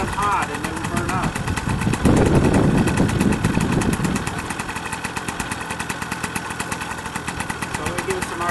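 A Vittorazi paramotor engine runs with a steady buzzing drone that swells as it is revved, then settles back to a rough, pulsing idle, loud and close throughout.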